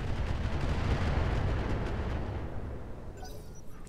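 Incendiary weapons firing on an enemy mech in the Roguetech battle game, heard as a heavy, rumbling barrage of booming blasts that is loud at first and then fades into a thin, high tail.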